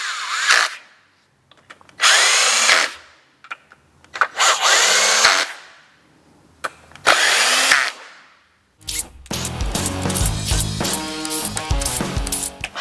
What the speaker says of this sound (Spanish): hemos medio apretado todo con el taladro con el freno puesto